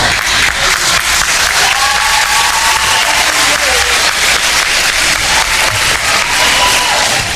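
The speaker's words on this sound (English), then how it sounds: "That was like half the kids clapping at that point" Children at a summer camp clap and applaud during a Color War breakout, a loud, dense, continuous wash of clapping with crowd voices and faint cheering mixed in.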